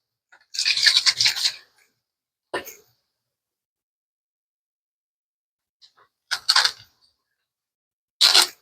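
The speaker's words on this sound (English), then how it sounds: "just do a quick polish on it" A microfiber cloth rubs briskly over the body of an Ibanez Roadstar II bass guitar in short, dry scrubbing bursts: one long stroke, then a quick swipe, then two more passes after a silent gap.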